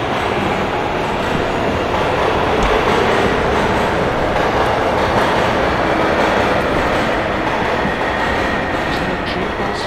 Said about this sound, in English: Is that a train passing by?